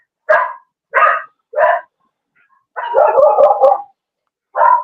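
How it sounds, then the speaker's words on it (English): A dog barks close and loud: three sharp separate barks, then a longer run of rapid overlapping barks and yips, then one more single bark, with quiet gaps between bursts. "That's why her name is Barky"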